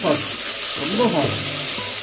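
Two finely chopped tomatoes sizzle loudly in a hot pan while cooking drumstick biryani, with a steady frying hiss, while faint stirring sounds come and go.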